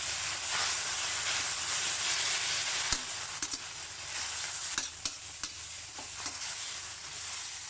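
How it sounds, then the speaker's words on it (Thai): Crispy pork is stir-fried in stir-fry sauce over high heat, producing a loud continuous hiss and sizzle with scattered sharp clicks of a utensil against the pan, close and without voices. "ทีนี้ก็เอาหมูกรอบใส่ลงไป ผัดคลุกๆ"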